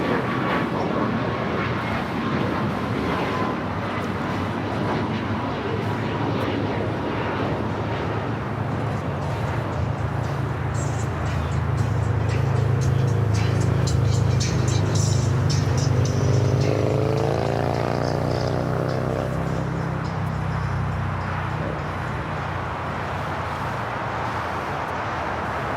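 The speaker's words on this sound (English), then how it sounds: "The next heavy takeoff here on the south side is United Airlines 198" United Airlines 198 heavy, a Boeing 787-9 Dreamliner, taking off from the south side at LAX, a loud sustained jet engine roar that swells and shifts in pitch as it passes, with no voices.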